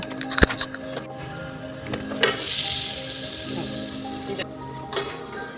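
Pointed gourd pieces tossed with spices in a pan for potol korma, a soft sizzle under scraping and clinking of the spoon against the pan, with several sharp taps.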